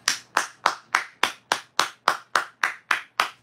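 A single person claps hands in an even, steady rhythm, about eleven crisp claps close up and alone, each sharp and evenly spaced.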